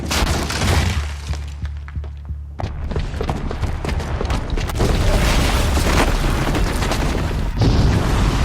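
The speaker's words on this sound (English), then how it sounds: "the booby trap on the bomb downstairs is gonna get set off" A booby-trapped bomb in Horizon Zero Dawn explodes with a loud, rumbling blast and shattering debris, followed by sustained crumbling roar and scattered crashes lasting several seconds.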